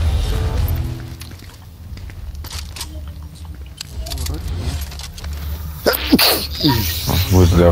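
One loud, sudden sneeze near the end, close by, following a stretch of muffled indoor noise and jingling.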